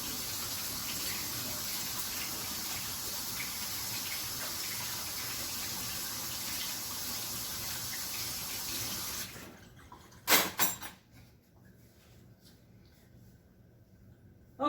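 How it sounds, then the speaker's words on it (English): Hands rinsed under a running kitchen tap give a steady splash of water for about nine seconds, then the flow stops, followed by a few clattering knocks and quiet handling, with no talk. "Let me rinse my hands off."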